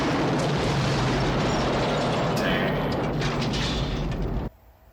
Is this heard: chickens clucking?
no